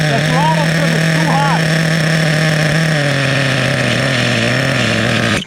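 A Kyosho Foxx nitro RC truck engine runs loud and close, its steady drone rising and straining as though trying to pull away while held back, with a voice speaking over it.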